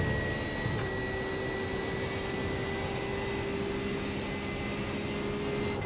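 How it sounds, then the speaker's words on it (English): Race car engine in the iRacing sim, a GT3 car, droning steadily like a jet plane, with a sustained whine and a steady tone running throughout at constant loudness, with no talk. "Thing sounds like a jet plane or something."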